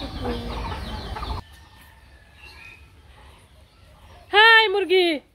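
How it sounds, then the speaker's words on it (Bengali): Hens in a rural village yard give a short run of loud, harmonic squawking clucks near the end, after a stretch of talk and quiet ambience. "হাই মুরগি"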